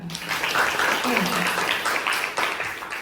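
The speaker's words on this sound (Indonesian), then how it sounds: "tepuk tangan untuk kalian semua" Students in a classroom clapping together, a dense burst of hand claps that runs for a few seconds with voices mixed in, fairly near and loud.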